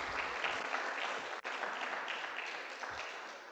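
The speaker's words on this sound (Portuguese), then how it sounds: "Aplaudindo o Senhor Jesus" A church congregation applauding together, a dense, even wash of clapping at moderate distance that carries on for a few seconds with one brief dip and no voices.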